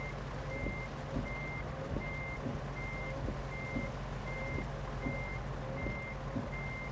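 A semi truck backs a trailer into a spot in American Truck Simulator, its reversing alarm beeping in an even, repeating rhythm over a low, steady engine hum.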